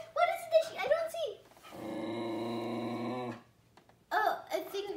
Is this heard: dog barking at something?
yes